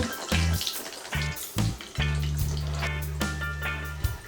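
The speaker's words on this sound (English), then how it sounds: "The plantains are frying nicely" Steady sizzling and crackling of plantains frying fills the clip, with a low humming tone and a few bumps of movement near the pan.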